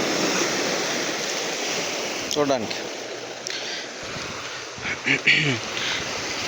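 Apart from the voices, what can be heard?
sea waves crashing against rocks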